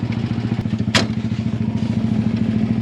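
A Polaris RZR 200 side-by-side fitted with tracks drives through about six inches of snow, its engine droning steadily loud and close with a rapid pulsing beat and a single thump partway through.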